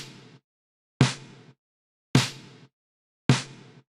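Four loud drum hits run through gated reverb and heavy EQ, each a sharp burst that cuts off abruptly, spaced about a second apart with silence between.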